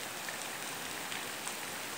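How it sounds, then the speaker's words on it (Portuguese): Heavy rain pours down in the backlands of western Bahia, a steady dense hiss of drops on surfaces with scattered sharper patters, even and continuous without any voices. "eu registrando a chegada da chuva"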